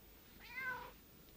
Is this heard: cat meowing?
yes